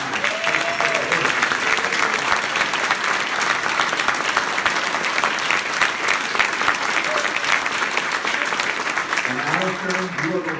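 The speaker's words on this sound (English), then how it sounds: "let's give them a big round of applause right now" Teachers honoured by students receive a big round of audience applause, a loud, sustained crowd clapping throughout, with a few brief voices calling out over it at the start and end.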